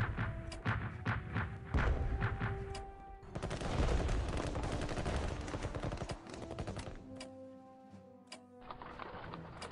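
Artillery and gunfire in the strategy game Strategic Command WW1: a dense, rumbling barrage of overlapping shots and booms fills the middle of the clip, with sparse sharp clicks and tones around it and no talk.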